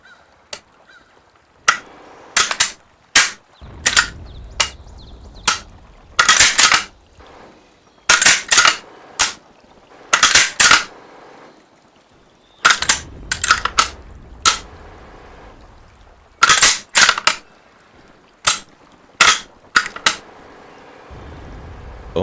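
Handling a long gun in close ASMR style: a series of sharp metallic clicks, clacks and snaps, some single and some in quick pairs, separated by quiet gaps and soft rustling, close and without talk.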